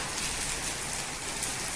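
Heavy monsoon downpour in the Gir region, a dense, steady roar of rain hammering surfaces with no pauses, loud and close throughout.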